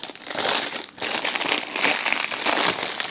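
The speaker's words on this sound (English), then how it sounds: "It is in a resealable plastic bag here." A resealable plastic bag holding a diamond painting kit crinkles and rustles while being handled, loud, close crackling in irregular bursts with one brief pause, and no voices.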